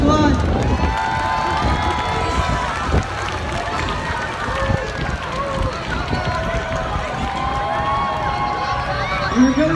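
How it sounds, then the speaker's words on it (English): A crowd cheers and applauds outdoors at a car show during a community carnival, with loose clapping and shouts mixed with talk, fairly close and busy throughout. "I want you guys to give them a big round of applause."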